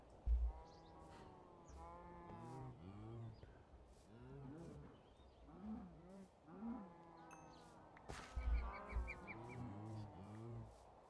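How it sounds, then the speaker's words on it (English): Loose cattle outdoors on a farm, several cows mooing repeatedly in drawn-out calls, some near and some farther off, with a few sharp thumps and rustles between the calls. "all the cows are out again."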